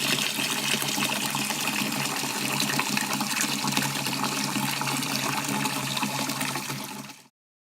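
Water poured off soaked lentils and rice, a continuous full gushing stream at close range that holds steady for about seven seconds, then tapers and stops abruptly.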